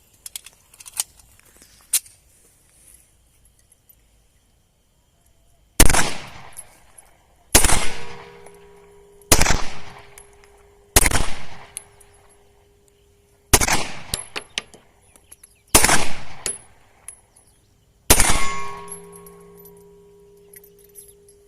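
A Brazilian Taurus pistol fires about seven loud, sharp shots, each a separate crack with a short metallic decay, spaced a couple of seconds apart after a few faint clicks of handling.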